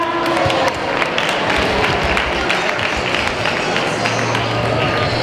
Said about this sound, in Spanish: ese aplauso para ella